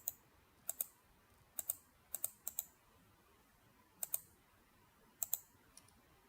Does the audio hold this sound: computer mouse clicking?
yes